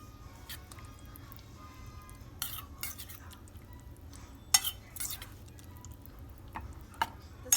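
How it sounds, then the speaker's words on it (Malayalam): Leftover dosa batter for vegetable kuzhi paniyaram is mixed with extra finely chopped coriander leaves. Soft, quiet stirring is broken by light, irregular clicks and taps of a spoon against the bowl, with no talking. "നന്നായിട്ടൊന്ന് മിക്സ് ചെയ്യും."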